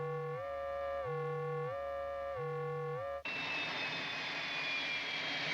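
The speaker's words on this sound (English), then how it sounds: "Nice liftoff, Commander." A television sound effect of a spacecraft lifting off: a warbling electronic tone pulsing in repeated cycles, then a sudden loud, steady roaring rush with a high whine.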